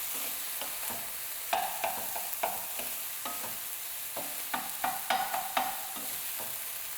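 Sausage sizzles steadily in a hot frying pan on a cooking show, broken by repeated sharp scrapes and clicks as it is stirred with a utensil, each stir a brief knock, close and fairly loud without anyone talking.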